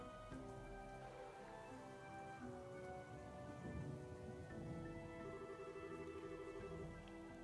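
Steady rain pours down in the video game Trails in the Sky the 3rd, a dense, constant wash of drops with low rumbling underneath and a game music tone drifting through. No one speaks.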